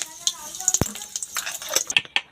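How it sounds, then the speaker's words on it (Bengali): A dried red chilli and cumin seeds tempering in hot oil, heard as close, brief sizzling crackles and pops mixed with light metallic clinks from a pan and utensil. "আমি একটা শুকনো লঙ্কা আর একটু জিরে নিয়ে নিয়েছি ফোড়নে দিয়ে দিচ্ছি"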